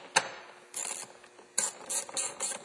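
A ratchet tightens 7mm bolts on a Ford Mustang door, giving close, crisp bursts of rapid clicking separated by short pauses.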